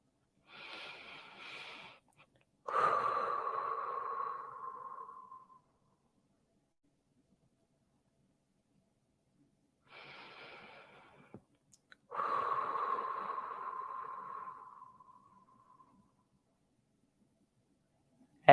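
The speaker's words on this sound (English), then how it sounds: "Let's just take a couple of breaths." Slow, deep meditative breathing comes in two cycles, each a soft inhale followed by a long, audible exhale, close and quiet with silent pauses in between.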